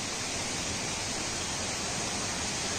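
Steady broadband rush of a rain-swollen river in a dark, tree-shaded forest, a continuous even wash of flowing water with no breaks and no voices.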